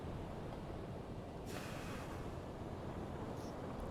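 A submarine cuts through open ocean water in the UBOAT game, a constant broad rush of churning water and surf-like wash with a brighter splash surge midway and no talk.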